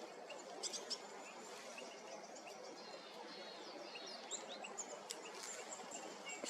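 Eurasian bullfinch calling outdoors on a mild, overcast morning, its call among a busy chorus of chirps and tweets from other small birds, with steady background ambience throughout.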